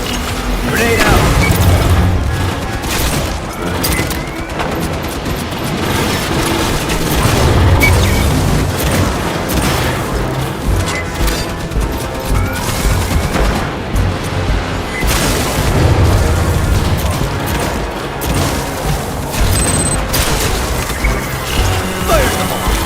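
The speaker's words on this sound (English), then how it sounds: "Grenade out." Grenade blasts in the Aliens: Fireteam Elite video game: several heavy booms spaced seconds apart, with crashes, clatter and dense combat noise in between and voices now and then.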